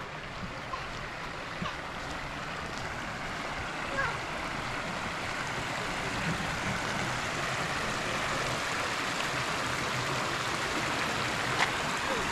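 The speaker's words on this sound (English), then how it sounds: "So here you can actually see how much water is flowing down Pennington." Water of Pennington Creek rushes steadily over rocks in a continuous, broadband wash that stays even and fairly loud throughout, with no talk over it.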